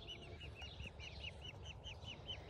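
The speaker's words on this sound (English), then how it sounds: "Get out of here, ducks." Ducks in a backyard garden giving a steady run of short, regularly repeated calls over a low outdoor rumble, moderately distant and with nobody speaking.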